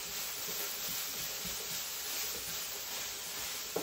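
Cabbage frying in a pan that is not getting very hot, a steady soft sizzling hiss heard close up with no talking.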